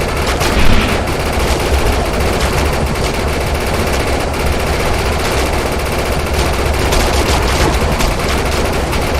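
Continuous, dense automatic gunfire from a gun in the PC shooter Defiance 2050: rapid shots run together at steady, loud volume for the whole stretch with no pauses and no talking.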